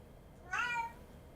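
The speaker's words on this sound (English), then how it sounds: "My cat just came to the door of the office and is yelling at me." A house cat at an office door lets out a single loud, rising-then-falling meow, brief and clear against a quiet room.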